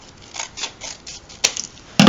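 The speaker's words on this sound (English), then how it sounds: "You can take a pair of scissors and you can trim them up." Scissors snip crisply through paper book pages in a run of short, close clicks, a few louder cuts near the end, with no talking.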